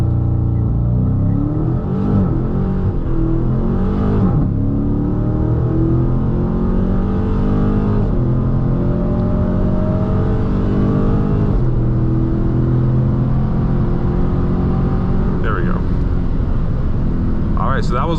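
A Dodge Challenger Scat Pack T/A 392 in track mode launched at full throttle, its V8 roaring loud and close with rising rev sweeps, brief dips between gears and tires spinning, a voice talking briefly over it.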